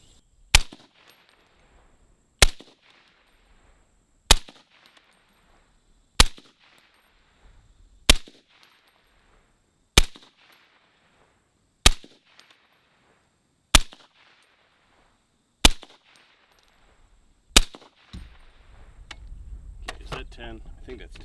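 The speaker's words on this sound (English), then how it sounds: "we're gonna do our second semi-automatic test, full 20 rounds in this magazine right here. But we're also gonna combine it with the first suppressor test" A suppressed semi-automatic .308 rifle fires at a 50-yard range, ten sharp evenly spaced shots roughly two seconds apart, each loud crack decaying into quiet, followed by faint rustling.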